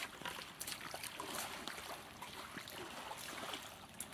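Muddy, dirty water trickles and splashes steadily through a survival water filter, a faint continuous dribbling with small splatters, heard close and alone without talking.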